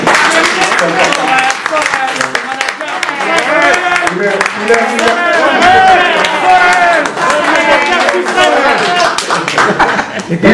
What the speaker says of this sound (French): un tonnerre d'applaudissements pour cette brillante présentation